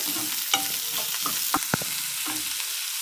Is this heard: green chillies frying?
yes